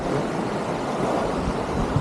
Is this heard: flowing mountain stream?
yes